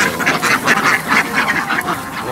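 A large flock of white ducks on a duck farm quack continuously, a dense overlapping chorus of loud, close calls with no talking.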